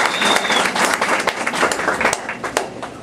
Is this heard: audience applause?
yes